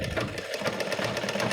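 Domestic sewing machine stitching a sari border, a continuous close whirring run with a fast steady needle pulse throughout, no talk.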